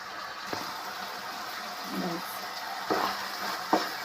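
Frying in a pan while making tomato gojju: a steady broadband sizzle runs throughout, with a few sharp stirring clicks and scrapes at intervals.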